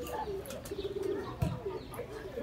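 Soft, low cooing of pigeons close by, with faint chirps and light fluttering in the background.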